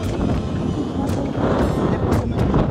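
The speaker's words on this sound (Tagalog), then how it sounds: "Sobrang lakas ng hangin." Strong wind roars steadily across the microphone on a high glass walkway, a loud continuous buffeting rumble with no pauses.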